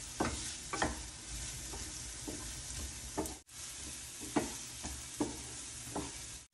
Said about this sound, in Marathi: यात आपण आता हा कांदा घालूया.